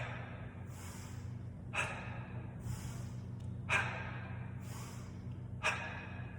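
Heavy, forceful exhalations keep a steady rhythm during a crossbody kettlebell swing, with three strong breaths about two seconds apart over a constant low background hum.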